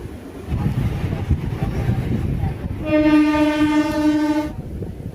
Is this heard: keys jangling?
no